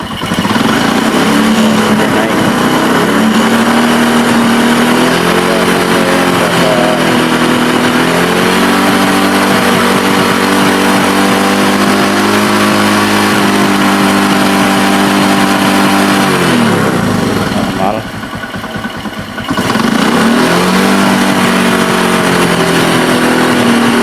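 A Honda Karisma X motorcycle engine with a faulty voltage regulator runs loud and close, revving up and down in long swells, dipping briefly near the end before picking back up.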